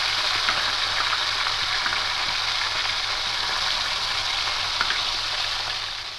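Pomfret fish frying in hot oil in a home kitchen, a steady dense sizzle with fine crackling pops, close and constant throughout with no talking.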